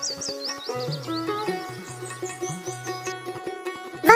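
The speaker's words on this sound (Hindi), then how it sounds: "एक चिड़िया आकर उस वृक्ष पर जोर जोर से चहचहाने लगती है।" A bird chirps loudly from a tree, with bright repeated tweets layered over a melodic tonal background in an animated story scene, ending in a sharp burst.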